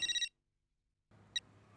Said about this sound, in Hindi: तू फोन लगाने रघु को।